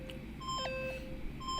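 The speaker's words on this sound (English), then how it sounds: "Stop that goddamn beeping and say something." Electronic beeps from the Danganronpa video game sound in short repeated tonal bursts over a faint steady background, fairly quiet, with no one talking.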